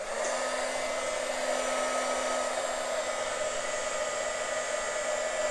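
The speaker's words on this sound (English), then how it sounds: "Let's hit it with a heat gun," A heat gun embossing tool blows hot air over a poured acrylic fluid painting. The roar is constant and close, with a steady whine and no break.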